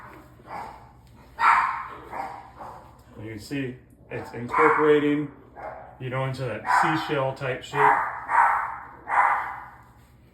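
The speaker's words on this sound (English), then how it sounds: "you can hear my dog in the background" A small dog barks and yips in short bursts in the background of a kitchen while deep dish pizza dough is made, the barks partly under a person talking.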